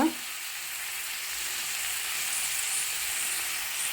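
Coriander, chili and turmeric powders roast in a hot pan with tomato for a sprouted-bean gravy, giving a steady, close sizzle and hiss that runs unbroken without any talk.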